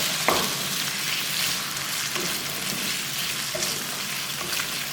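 Half a kilo of potatoes sizzles steadily in a pan of hot oil for an egg and potato bhujia, a continuous close crackling hiss with occasional soft stirring clicks and no voices.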